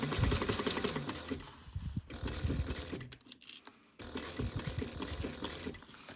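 A sewing machine stitches a small fabric bag in close, rapid bursts of needle chatter, pausing briefly twice before running on again.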